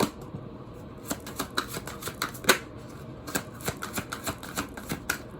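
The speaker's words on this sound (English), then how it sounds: "the cards are not shuffling properly" A deck of cards being shuffled by hand, with rapid riffling flutters and repeated soft slaps in an irregular rhythm, close and fairly quiet, without any talking.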